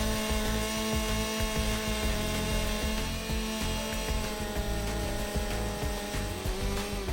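Steady whining drone of a chainsaw chain sharpener grinding continuously, close and loud, with faint irregular rasping pulses throughout and no talking.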